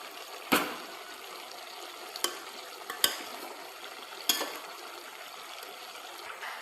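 A spoon scrapes through vegetables and veg biryani masala in a pan for dum biryani: four or five soft, separate knocks and scrapes over a faint hiss, close and quiet.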